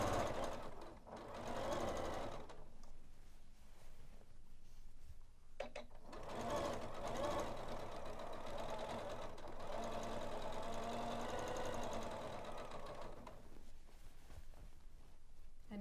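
Janome sewing machine stitching bias binding on a dress, a steady close mechanical whir running almost continuously with a few short pauses.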